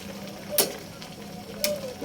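A thick coconut milk vegetable stew bubbles and simmers steadily in a pot, with two brief scraping strokes of a utensil stirring it.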